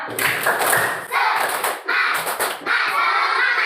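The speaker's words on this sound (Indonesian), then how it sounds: "Oke, tepuk semangat" A classroom of students performs a rhythmic spirit clap routine led by a teacher, with bursts of patterned group clapping and thumps broken by brief pauses, fairly close and loud.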